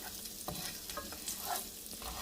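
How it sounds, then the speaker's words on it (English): Rice browns in a frying pan for albondigas, sizzling softly as a utensil stirs and scrapes it with a few faint clinks. "add all my rice in there and just start browning it"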